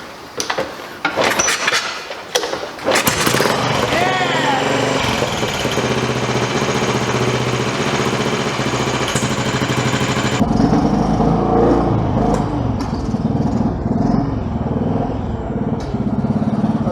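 A Royal Enfield Bullet 500 motorcycle with sidecar, run with the choke off and decompressor in use, kicks over with a few clattery attempts, then fires and settles into a loud, steady, thumping single-cylinder idle close by.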